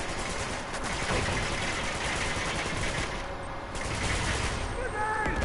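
Rapid, dense gunfire from the video game Uncharted: Drake's Fortune, sustained automatic bursts with shots layered close together, loud and continuous, with a brief dip midway and game sounds underneath.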